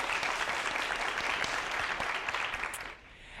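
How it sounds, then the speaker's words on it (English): A big round of applause for a spelling bee finalist from York Middle School, dense steady clapping from the audience that tapers off near the end. "please give a big round of applause for Hia from York Middle School"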